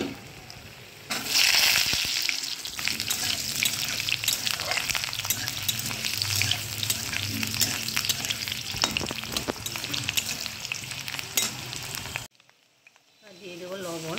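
Potatoes dropped into a pan of frying cumin erupt into a loud, bright sizzle that crackles steadily for about eleven seconds. Stirring sounds run through it before the noise abruptly drops to a low hiss.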